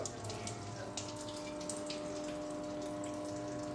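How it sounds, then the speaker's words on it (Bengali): A small electric motor pump submerged in water, humming steadily with a constant whine while water churns and splashes nearby, fairly faint and continuous throughout. "জলের মধ্যে আর একটু চোবাও, বেশি জল উঠবে তাহলে।"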